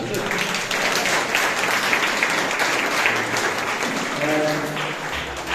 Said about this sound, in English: round of applause for Shan